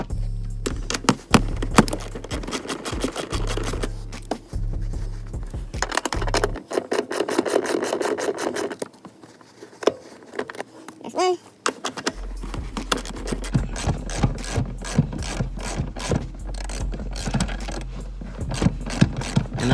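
Front seat mounting bolts in a car being undone with a ratchet, close rapid clicking and rasping runs of the ratchet broken by pauses, shifting handling noises and a quieter stretch midway, with no talk.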